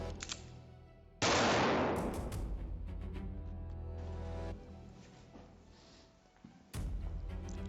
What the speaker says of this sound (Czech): Jeden výstřel, vynuceně přebiju a jeden výstřel.